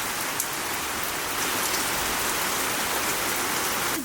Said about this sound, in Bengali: যা বৃষ্টি আসছে মনে হচ্ছে রান্না করতে করতে আজকে ভিজে যাবো